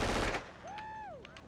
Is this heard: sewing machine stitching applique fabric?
no